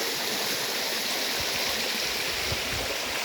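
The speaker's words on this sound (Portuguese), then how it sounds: "Este som maravilhoso e essa água correndo." Stream water rushes steadily over rocks, a loud, close, unbroken hiss and rumble with no voices.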